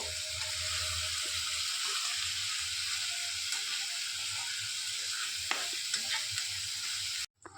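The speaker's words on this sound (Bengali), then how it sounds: "গ্রেভিটা খেতে খুব ভালো লাগবে পেঁয়াজটা একটু ভেজে নেবো" Onion frying in a pan for a prawn curry, a steady broadband sizzle that holds evenly for about seven seconds with faint stirring ticks, close and alone before cutting off abruptly at the end.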